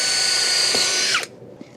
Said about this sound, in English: I'm going to pre-drill some holes for some finishing nails.